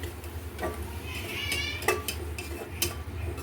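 Spoon stirring mutton curry in a metal pot, with soft scraping and a few sharp clinks against the side, close and moderately quiet, no talk.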